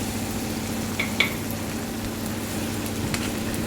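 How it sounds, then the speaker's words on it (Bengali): Food fries with spices in mustard oil in a pan, giving a low, steady sizzle throughout with a couple of brief clinks of stirring, moderately quiet and with no talk. "এটাকে একদম ভালো করে মশলা সহ ভেজে নিব"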